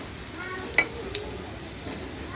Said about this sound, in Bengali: শোল মাছ রান্নার জন্য পেঁয়াজ একটু ভাজি করে নিচ্ছে